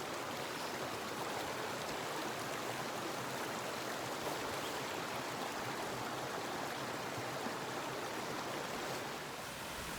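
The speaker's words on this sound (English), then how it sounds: "There were so many little waterfalls everywhere." Small waterfalls and a stream in Zion National Park, a constant broadband rush of falling and running water, steady and close with no other sounds.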